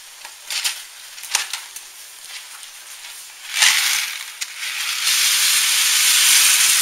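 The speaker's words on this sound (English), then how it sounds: "the pasta pot has started boiling" Steady hissing and bubbling builds up in a pasta pot, with a few clinks and a louder rushing surge near the end, like a rolling boil.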